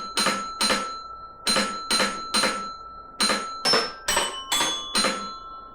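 A singing Christmas tree toy chimes out the Jingle Bells tune in bright, evenly spaced bell-like notes, a short run of separate tones with brief gaps, clear and close with no voices.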